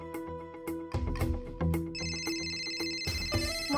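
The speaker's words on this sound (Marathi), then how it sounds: "तर रीनाला फोन करून सांगावं लागेल." A telephone rings with a melodic electronic ringtone in a repeating pattern, close and clear, heard alone with no talking over it.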